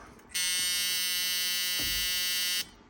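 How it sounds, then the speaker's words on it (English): The door buzzer of a 1979 Pontiac Trans Am sounds, a loud, steady electronic buzz switching on abruptly, holding about two seconds, then cutting off, with a faint click partway through. "Door buzzer even works, so that's pretty cool."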